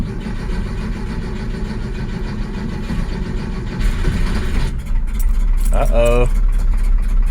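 The 1966 Porsche 912 engine cranks and catches after its carburetor rebuild, chugging close by and growing louder with a rough idle; a voice speaks briefly over it.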